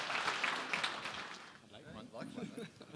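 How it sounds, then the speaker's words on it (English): Brief applause from an audience at a craft beer industry panel in Brooklyn, a moderate burst of clapping that fades within about a second and a half, then gives way to talking. "Big round of applause."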